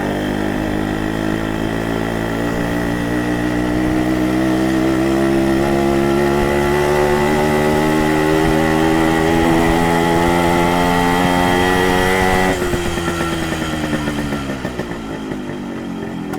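A motorcycle exhaust revs up with a rising engine pitch, holds high, then drops back as the throttle eases, loud and close with no talking.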